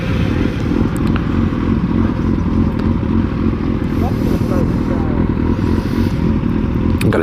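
Several motorcycles on a group ride, among them a Ninja 400, an RC390, a cruiser and an MT-07, with a constant loud engine drone and wind rumble close by, and no clear talking.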